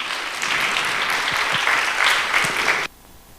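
A congregation at a church youth worship service claps warmly for an elder coming forward, a brisk close burst of applause that stops abruptly after about three seconds.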